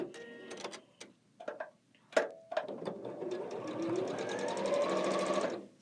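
A sewing machine runs close by while quilt seams are sewn, starting with a few sharp ticks and short stops, then building into a steady rapid rattle for a couple of seconds before cutting off.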